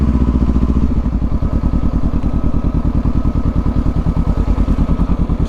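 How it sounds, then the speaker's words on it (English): Kawasaki Versys 650 motorcycle rolling along at low speed, its parallel-twin engine giving a steady, close, loud pulsing thrum with faint clatter, alone without talk. "I can take it because I'm riding a motorcycle."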